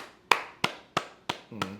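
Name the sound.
hand clapping imitating a rap beat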